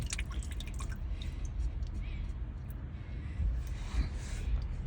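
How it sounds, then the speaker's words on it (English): Antifreeze dripping and trickling out of a boat engine block, soft irregular drips and a faint liquid patter close by over low background rumble. "we got antifreeze coming out of the block"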